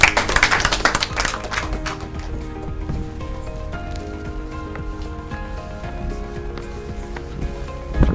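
A studio audience at a children's day quiz show applauds a young contestant, a loud burst of clapping in the first two seconds that quickly thins out, followed by lingering background music tones.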